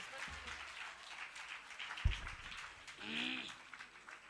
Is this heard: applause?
yes